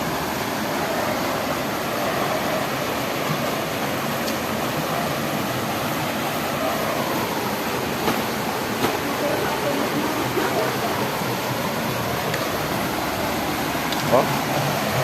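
Broad, steady rush of water pouring at Ilang Dam, a constant full-band roar that stays even throughout without pauses.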